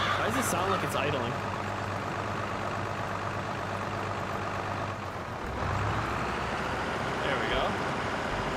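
A tractor or truck engine idles in Farming Simulator 22, a steady low rumble with a brief hiss and shift midway, running under a person talking.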